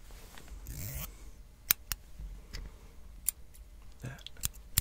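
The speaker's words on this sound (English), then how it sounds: "And now the micro shears." Small metal micro shears snip several times in quick, sharp clicks, close and crisp, scattered across a quiet, hushed background with a brief rustle early on.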